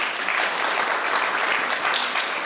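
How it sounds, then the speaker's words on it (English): Dense, steady applause from a church congregation welcoming a guest minister, continuous clapping filling the room for a couple of seconds with no voices over it. "let's applaud"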